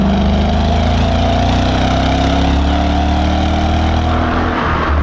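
A Mercedes SLK55 AMG (R172) roadster's engine pulls hard along a road, its loud, close exhaust note rising in pitch through a sustained acceleration.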